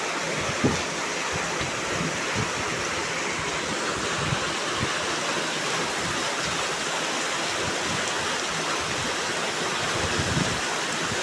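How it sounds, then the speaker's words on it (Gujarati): Floodwater rushes through the streets of Rajkot during a heavy downpour, a dense, unbroken roar of flowing water and rain that stays loud and even throughout, with no voices. "રાજકોટ શહેરમાં નદી જેવા દ્રશ્યો થઈ ગયા છે"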